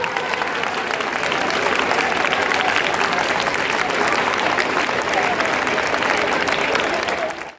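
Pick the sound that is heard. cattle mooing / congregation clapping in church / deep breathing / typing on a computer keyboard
congregation clapping in church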